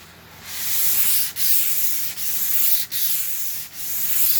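Hand sanding a stripped wooden table with a foam sanding block along the grain, loud close rasping strokes in a steady rhythm with brief pauses between passes, no talking.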